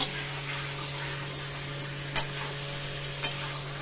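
Green jackfruit curry being sautéed in a pan, a quiet steady sizzle with two or three sharp spatula scrapes standing out against it, nearby and with no one talking.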